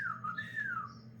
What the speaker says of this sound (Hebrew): ככה שורקים.